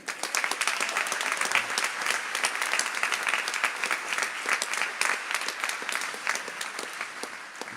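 Steady applause from an audience, many hands clapping continuously before easing off at the end.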